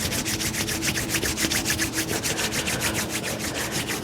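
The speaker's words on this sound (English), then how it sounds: "rub your hands together" Hands rubbing together during a tai chi session for arthritis and fall prevention: a steady, even back-and-forth swishing, close and fairly soft, with no talking.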